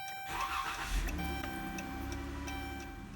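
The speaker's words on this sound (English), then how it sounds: "put it in the ignition, and start the car." A Chrysler 300 engine cranks and catches, then settles into a steady idle hum, with clicking of the hazard lights ticking rhythmically over it.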